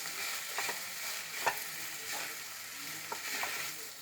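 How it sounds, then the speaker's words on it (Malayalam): Chicken sautéing with onions in a pan, a faint steady sizzle with a few soft stirring scrapes and taps, close but quiet. "നന്നായി ഒന്ന് വഴറ്റിയെടുക്കാം"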